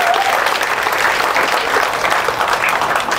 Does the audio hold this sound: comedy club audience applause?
yes